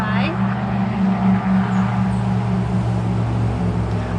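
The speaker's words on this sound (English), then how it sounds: "Yeah, so I'm gonna let this big old truck go by." A big pickup truck on a country road rolls past close by, giving a loud, steady engine and tire roar throughout, with a voice talking briefly at the start.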